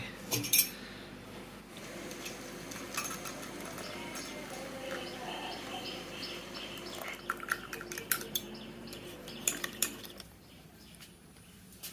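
Metal utensils clinking and rattling while tea is made in a village kitchen, a run of light scrapes and sharp chinks, busier toward the end before falling quiet.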